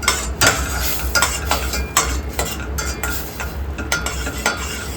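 Ginger garlic paste fries in a pan for butter paneer masala while a spoon scrapes and stirs it, with a loud continuous sizzle broken by regular metallic stirring strokes.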